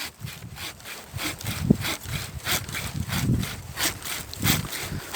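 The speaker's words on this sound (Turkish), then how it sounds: "Bıçkıyla bir güzelce çıkaracağım şimdi." A hand saw cuts through an old grapevine trunk during vineyard pruning, with steady back-and-forth rasping strokes close by, each stroke a rough scraping burst at an even rhythm.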